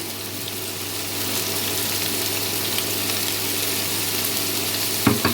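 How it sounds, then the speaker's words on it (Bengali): Squash and potatoes frying in a pan, a steady close sizzle running the whole time, with a couple of brief clatters near the end. "কুয়াশার আলুটাকে আমি দু মিনিটের মতো ভালো করে ভেজে নিয়েছি"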